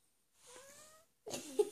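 A cat meows softly once, then a louder, rougher cat cry follows after a brief pause, close by.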